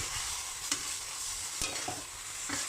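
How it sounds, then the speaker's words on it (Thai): Basil leaves and eggplant are stirred in hot oil, giving a steady, close sizzle broken by a few scraping and clinking strokes of the utensil against the pan. "วิธีการใส่ใบโหระพานะให้ยังเขียวสุดเช่นเดียวกันก็รีบผัดให้เข้าน้ำมัน"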